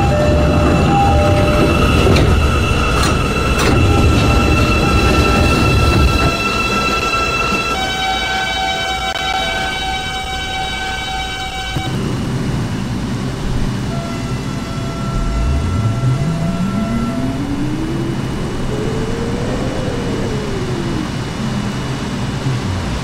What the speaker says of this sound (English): a Rentar Plaza bound B train